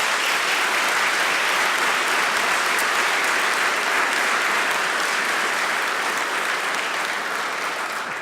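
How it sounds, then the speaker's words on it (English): Steady, full applause from a civic audience at a State of the City address, honoring public safety officials; broad, continuous clapping that holds evenly throughout without voices over it. "join me one last time for a round of applause for the work of our public safety officials that are here tonight"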